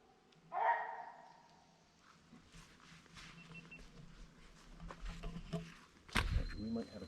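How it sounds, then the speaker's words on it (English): A dog barks from somewhere up the wooded slopes along a hiking trail in the Stratton Mountain and Lye Brook Wilderness area, with a faint, far-off yelp or two amid quiet outdoor sounds and some nearby voices. "there's a dog that's been barking for like the past 20 minutes"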